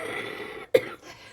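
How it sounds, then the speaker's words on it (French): A single sharp cough bursts out of quiet background noise, close to the mic, followed by a brief low murmur. "je vais pas couper à chaque fois que je tousse"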